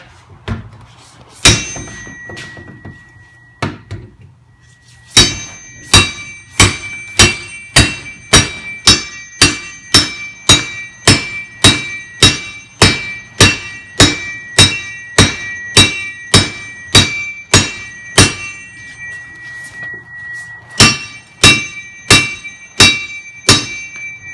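An axe or Halligan bar strikes a door lock over and over, trying to break the bolts and cylinder, with loud, close metallic clangs in a steady rhythm of roughly one blow per second after a few scattered opening hits.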